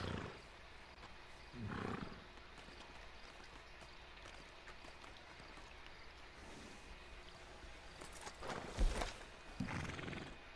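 Horse in the video game Red Dead Redemption 2 giving several loud, rough neighs and snorts at intervals over a steady low background hum, with a couple of heavy thuds near the end and no talking.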